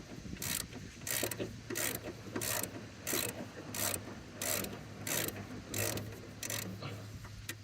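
A ratchet wrench works rusty nuts loose on a 2008 Lexus GS during a strut brace install, giving about a dozen evenly spaced bursts of close, crisp clicking over a low steady hum.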